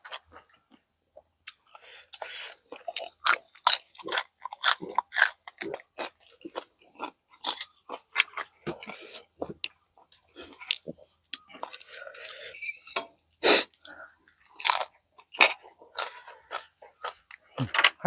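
Close, crunchy chewing of spicy cuttlefish salad with fermented fish sauce and crispy pork cracklings, with many sharp bites and crunches in an uneven rhythm and faint murmuring between them.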